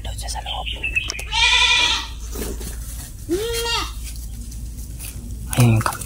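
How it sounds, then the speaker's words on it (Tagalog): Goat bleating nearby in a rural setting, a few separate wavering calls, with people talking quietly between the bleats. "Ayun yung kambing."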